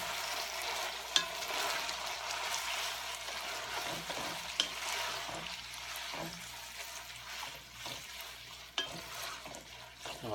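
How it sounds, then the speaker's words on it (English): Spaghetti being stirred into sizzling garlic oil in a pan for aglio e olio: a steady, close frying hiss broken by occasional sharp scrapes and clicks of the utensil against the pan. "stir the spaghetti into the oil until it all combines"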